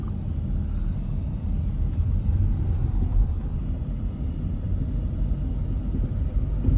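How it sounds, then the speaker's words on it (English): A truck rumbles past on a highway, a steady low roar heard from inside a moving vehicle, with continuous engine and road noise throughout and no voices. "another bloody truck"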